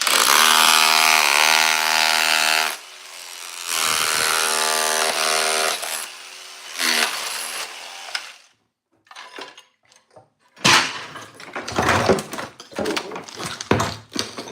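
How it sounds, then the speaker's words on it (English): A Bosch rotary hammer rips up an old tile floor in loud, sustained grinding bursts, then rattling chips and scraping debris in short, uneven clatters during a renovation demolition. "It's not even that big of a rotary hammer."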